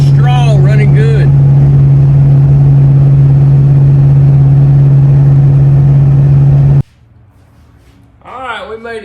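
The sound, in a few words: 1958 Chevy car engine running while driving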